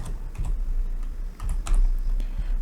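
Name being typed on a computer keyboard, a steady run of close, crisp key clicks with uneven rhythm and a few louder keystrokes, with no talking.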